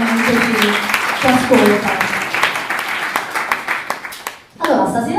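An audience at a startup community evening in Naples claps in a dense burst that tapers off. Voices speak over and after the applause.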